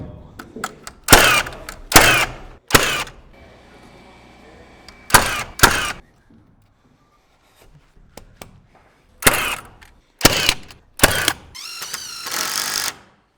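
Wooden fire blocks between wall studs at attic level are nailed in with a series of sharp, loud, close bangs arriving in pairs and clusters, separated by quieter gaps filled with faint handling noise.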